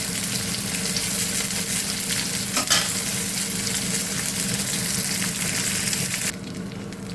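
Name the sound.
curry paste frying in a pan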